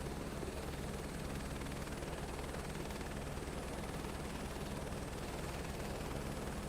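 A helicopter hovering in Microsoft Flight Simulator 2024, a steady loud engine and rotor drone with a constant throbbing hum, alone without talk.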